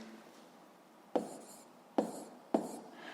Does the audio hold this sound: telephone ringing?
no